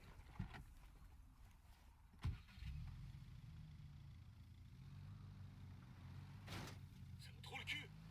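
Car engine turning over and a vehicle driving in Ghost Recon Wildlands, a steady low engine drone running for several seconds with a few sharp knocks, under talk.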